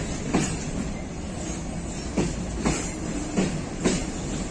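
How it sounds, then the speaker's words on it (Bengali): A long Indian freight train of about 87 wagons rolls past in Bangladesh, its wheels striking rail joints in a steady rhythmic clickety-clack over a constant rumble, heard at moderate distance with no talk. "বাংলাদেশের বিগেস্ট মালবাহী ট্রেন বলা চলে এই ট্রেনটি সাত আশিটি বগি নিয়ে"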